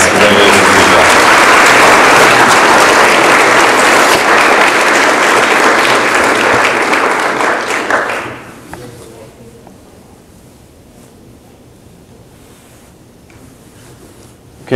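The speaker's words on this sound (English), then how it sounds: "Last winner of the day, big round of applause." Big round of applause from an audience at a sustainability awards ceremony for the final award winner, loud and dense for about eight seconds, then fading quickly into quiet room tone.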